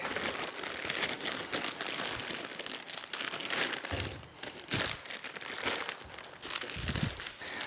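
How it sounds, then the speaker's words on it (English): A Rotel RA-1592 integrated amplifier is lifted out of its packaging, with continuous close crinkling and rustling of plastic and packing material and a few soft thumps; no talking. "let's get it out of the packaging so we can take a look"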